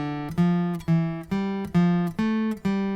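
A clean, sustained guitar picks out a scale in thirds, one note at a time in a steady stepping pattern, each note ringing briefly before the next.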